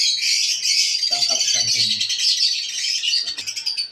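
Hens and other birds squawk and chirp in a crowded aviary, a dense, continuous chatter of calls with a few lower clucks breaking through.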